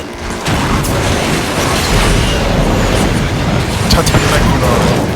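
A Pininfarina Battista roars as a racing car in Asphalt 9: Legends, a steady, loud rumble of engine and road noise with boom-like hits, with speech mixed underneath.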